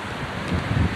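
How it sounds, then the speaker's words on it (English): Strong wind at Coober Pedy, outback South Australia, buffets the microphone with a low, rumbling roar that swells in gusts. "It's very windy, but we got a shady area."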